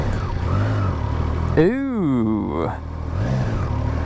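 Triumph Tiger Sport 660 motorcycle with a triple engine cranking and firing up, a rising and falling engine note that swells for about a second, close by, with a person talking briefly around it.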